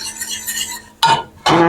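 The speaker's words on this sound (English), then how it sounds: "So you can use a whisk, which I'm going to do that right now because I have a few lumps" A whisk knocks and scrapes against the pan while beating out lumps in gravy, giving two short, close metallic bursts after a quiet, faintly humming start.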